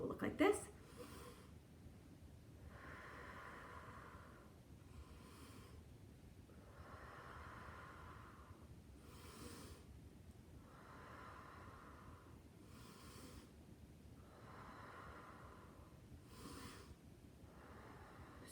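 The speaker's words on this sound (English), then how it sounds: "breathing in through your nose on the up, hold your breath at the top, and breathe out through your mouth on the down" Slow, paced breathing for a stress-relief exercise, each breath drawn in through the nose, held, then let out through the mouth, repeating in soft, even waves at close range over a steady low background.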